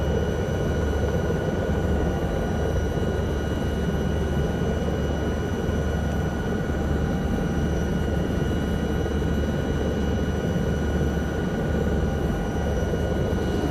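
A steady, dense engine drone with a constant whine and rotor-like rumble, loud and unbroken throughout, from an SA315B Lama helicopter flying in Microsoft Flight Simulator.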